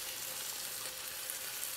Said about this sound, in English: you listen to the sizzle